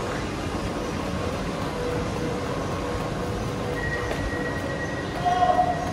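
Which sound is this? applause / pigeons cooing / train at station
train at station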